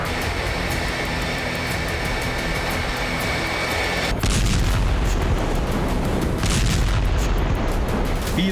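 A fighter jet roars loudly and steadily, with a broad jet engine rush that swells into a heavier, booming pass partway through, with no voices.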